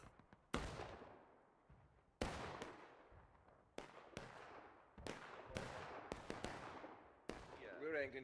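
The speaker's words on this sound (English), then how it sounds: "Cannons are putting in some work as well." Heavy booming blasts of cannon fire in the video game War of Rights, about eight sharp impacts spread across the clip, each with a long rumbling tail, and faint voices underneath.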